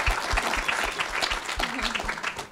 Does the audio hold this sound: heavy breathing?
no